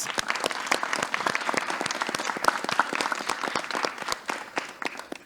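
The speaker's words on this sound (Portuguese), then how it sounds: "uma salva de palmas para os rapazes." Sustained applause from a crowd, dense steady clapping that carries on without a break and fades slightly toward the end.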